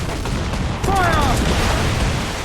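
A broadside of ship cannons in Assassin's Creed IV: Black Flag erupts loud about a second in, rolling blasts and rumble layered over steady sea and battle noise, with a voice calling out over it.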